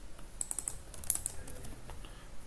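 Code is typed on a computer keyboard in short, irregular bursts of crisp key clicks that carry on steadily, close up and fairly quiet, with no talking.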